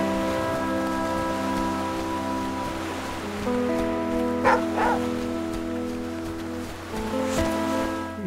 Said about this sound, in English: Can't tell if he barks because he's found something or if he's just barking for the sake of it.